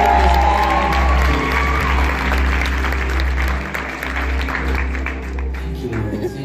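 A church congregation claps and cheers loudly together, with whoops rising over a steady low hum and some voices mixed into the dense applause.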